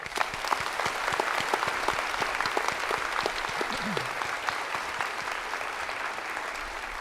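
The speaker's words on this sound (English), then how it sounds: "Let's give them one more round of applause." An audience at an academic honors ceremony gives a steady round of applause, many hands clapping continuously at moderate distance, a brief vocal sound rising through the middle.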